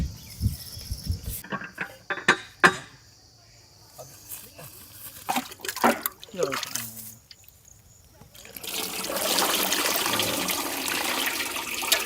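Water is poured over curdled milk to rinse homemade paneer in a village kitchen, first in broken splashes and drips, then as a steady close gush in the final seconds, with crickets chirping faintly in the background.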